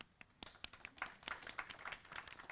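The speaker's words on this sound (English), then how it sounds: "Can we give him a clap?" A small workshop audience claps for a participant, a faint, sparse patter of individual hand claps at close range with no talk.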